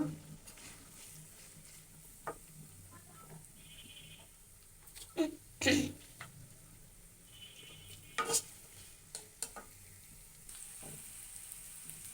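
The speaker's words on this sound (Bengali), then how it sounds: "সেটা এখন আমি লেড়ে চেড়ে নেব" A spoon scrapes and knocks through chopped bottle gourd and onions frying in a pan for a prawn dish, with scattered clanks and a few louder strokes over a low, steady sizzle.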